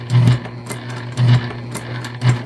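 A sewing machine stitches the flap of a handmade bag, running in short bursts with brief pauses between them, loud and close with a buzzing motor rhythm and no talking.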